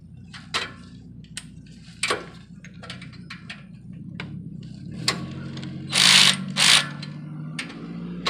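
Ratchet clicking as a bolt is tightened on the tail pipe of a Mitsubishi 3000GT, with short bursts of rapid pawl clicks, two louder scraping strokes near the end, and a low hum underneath.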